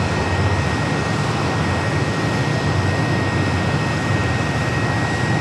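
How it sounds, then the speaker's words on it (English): An American Airlines A321 airliner arrives at Phoenix airport, its jet engines roaring loudly and steadily throughout, close by with no talking. "A321 coming in from Ontario, California, American, 3016."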